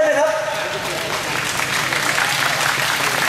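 Applause from an audience at a live concert event in Thailand, a dense broadband wash of clapping that holds steady and loud throughout.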